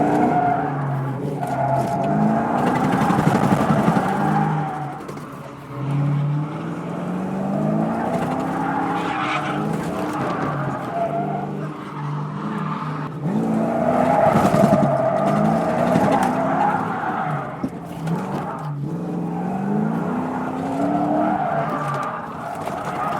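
A stock Ford Mustang drifting and spinning out at a track drift event, with sustained loud tire squeal and a revving engine rising and falling in long waves, close and continuous.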